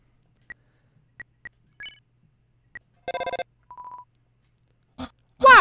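A phone call rings in Undertale with a sequence of short chiptune beeps, a buzzing ring pattern and a sustained tone, then louder bright electronic chimes at the end, all clean and isolated.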